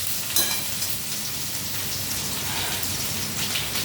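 Eggplant frying in a pan gives a steady, dense sizzle that holds at even loudness throughout, close up with no talking.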